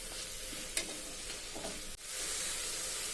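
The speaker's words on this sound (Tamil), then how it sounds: "தக்காளி நல்லா வதங்கட்டும்." Tomatoes sauté in a pan for mutton kulambu, a soft steady sizzle with a few sharp stirring scrapes and clinks, close up and alone.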